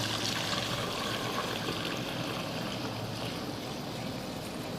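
Homemade imitation milk is poured through a strainer, the liquid trickling and splashing in a steady, faint, unbroken stream with no one talking.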